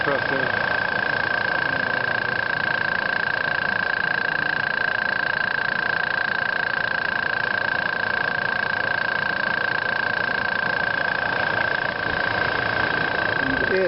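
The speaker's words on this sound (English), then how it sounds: "to this little compressor." A small air compressor powering a solar air lift well pump, a steady, loud mechanical hum with a constant tonal whine, running unchanged and alone throughout.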